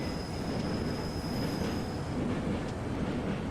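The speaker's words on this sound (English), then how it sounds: "So now this train will be able to carry on." A train rolls along the WCML South line in Train Simulator Classic, a continuous loud rumble of wheels on track with a thin steady squeal above it, no talk.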